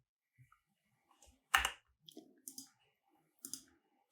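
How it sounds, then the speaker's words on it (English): Sparse, close clicks and a few keyboard taps on a computer, isolated sharp ticks separated by silence, with one louder click standing out. "I was typing too many things and clicking too many things"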